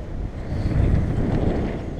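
Low, buffeting wind rumble hitting the microphone, gusting unevenly over a couple of seconds with no clear voices.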